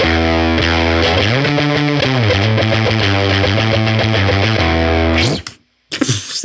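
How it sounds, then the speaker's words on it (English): Heavily distorted electric guitar through a Universal Audio Woodrow 55 amp, sustained chords ringing loud and close for about five seconds before cutting off, followed by a couple of short strums. "What do you think of the amount of distortion that we're getting out of this amp?"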